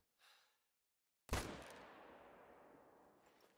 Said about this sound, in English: We're going to take him with the M1 Grand.